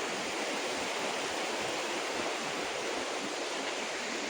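A river at Dulungmukh, Arunachal Pradesh, in hilly country, rushes in a loud, steady, close roar of flowing water that holds unbroken throughout, with no voices.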